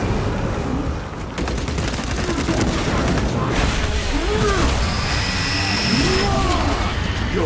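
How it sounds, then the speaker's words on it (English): A frag grenade blast followed by sustained gunfire in Warhammer 40000: Space Marine II, dense bursts of shots and booms layered with engine drone, loud and continuous across the whole span. "Frag grenade deployed!"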